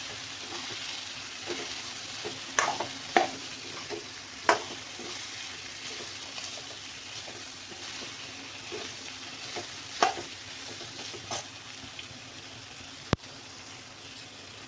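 Bell peppers stirred in hot oil in a pan for a stuffed pepper dish, a steady sizzle with a spoon scraping and tapping against the pan at irregular intervals, close and without speech.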